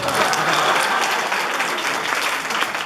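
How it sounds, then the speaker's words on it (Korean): Audience at a school presentation applauding after a drone demonstration, a dense, steady burst of many hands clapping close and loud, holding evenly throughout. "그럼 수고해준 드론을 위해 박수!"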